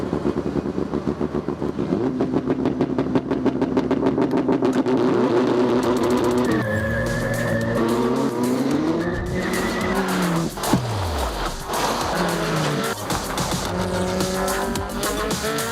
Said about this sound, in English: The Ampera E really accelerates like a real sports car, but without the noise.